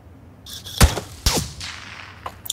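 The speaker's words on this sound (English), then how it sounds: "Somebody just shot at you." Video-game gunfire: two sharp, loud shots ring out in quick succession, followed by fainter, smaller cracks near the end.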